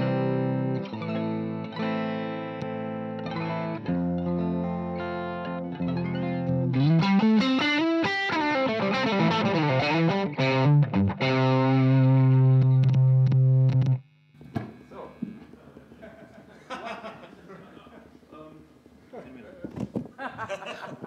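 Distorted electric guitar played through a genuine vintage Marshall Plexi amplifier, loud and sustained chords and fast note runs up close, then a sudden cut to quieter, looser picking.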